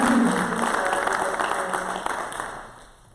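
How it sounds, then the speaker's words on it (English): Audience applause at an athletic Hall of Fame induction ceremony, steady clapping from a crowd that fades out toward the end. "How about a round of applause for the 2020"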